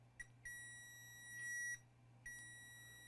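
A digital multimeter in diode mode beeps at a shorted current sense resistor on a Dell Precision laptop charging board, giving a few short bright tones and one longer sustained beep against a steady low hum.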